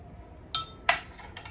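A spoon clinking against a glass of water while stirring in salt: two distinct bright metallic taps followed by a few fainter ones, close and clear in a quiet room.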